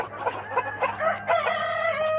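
Broody hens and other chickens, including silkies, in a mixed farm barn, clucking and calling in short overlapping bursts, with a crow rising near the end over a low steady hum.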